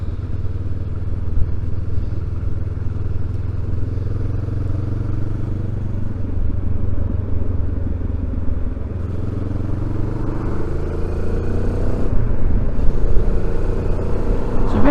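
A Benelli TRK 702 motorcycle engine drones steadily while the bike is ridden on a busy road. Its low rumble rises and falls through gear changes with rising pitch sweeps, heard close over wind noise with no talk.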